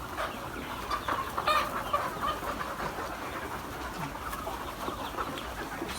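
Chickens cluck and chatter steadily at a poultry farm in The Gambia, a dense flock of about a thousand birds with scattered louder clucks over a constant murmur.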